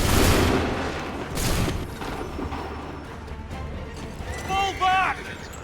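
A musket volley in Assassin's Creed 3: a loud crackling burst of shots at the start, then a second blast, followed by battle rumble, hoofbeats and shouting voices near the end.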